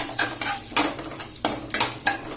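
Cashews and cumin frying in ghee, with a steady sizzle broken by several loud scraping stirs of a spoon against the pan, close and without speech.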